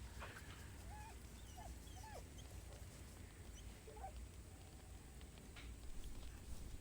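Scratch the dog in Baldur's Gate 3 lets out several small, faint whimpers and yips while being petted, over a steady background ambience.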